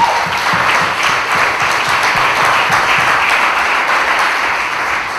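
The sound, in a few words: congregation applauding and cheering for Jesus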